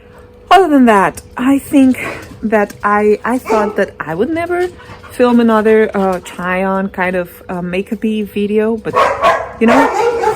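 A pet dog barking and whining indoors, heard in short bursts beneath a woman's steady, close-up talking.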